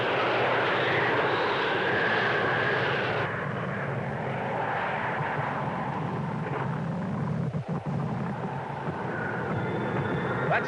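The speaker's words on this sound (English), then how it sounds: "Sounds like an airplane." A propeller airplane drones overhead in bad weather, a loud steady roar filling the whole stretch with slight shifts in pitch as it passes, with no speech.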